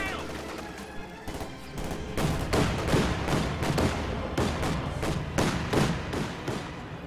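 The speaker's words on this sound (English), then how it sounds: "Panzer II engages the shock troops at range and forces them to retreat." A Panzer II tank fires at shock troops in a World War II strategy video game, with dense, rapid bursts of gunfire and thuds overlapping through a busy battle mix.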